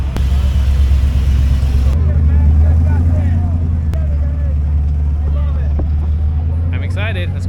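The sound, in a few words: off-road trucks driving out to begin the competition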